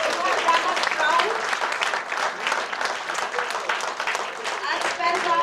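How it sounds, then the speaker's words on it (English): An audience gives a sustained round of applause, dense clapping from many hands filling the room steadily for several seconds. "A good round of applause for them."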